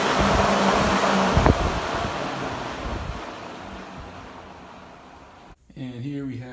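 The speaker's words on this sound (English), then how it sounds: "Modified GT fan with Mark 8 motor, high speed." A modified Mustang GT radiator fan with a Mark 8 motor runs at high speed in an SN95 Mustang, giving a loud, steady, broadband rushing roar that cuts off abruptly near the end, followed by someone speaking.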